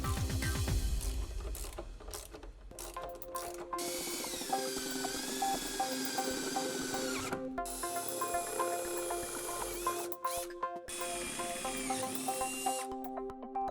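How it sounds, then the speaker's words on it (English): A power drill bores holes in the upper backer plate of a 4-link rear suspension on a 1970-1981 Camaro, whirring in repeated bursts with gear-like whines and short pauses, close and steady. "drill the remaining holes"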